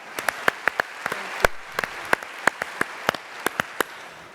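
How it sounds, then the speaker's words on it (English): An audience at a plenary session gives a short round of applause: sparse, distinct individual claps scattered across the hall, fairly close and moderately loud, without cheering or voices. "That alone merits applause"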